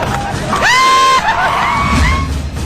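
Villagers in Nargund, Karnataka cheer, whoop and scream as a truck driver is pulled from floodwater, with loud rising shouts over a crowd roar.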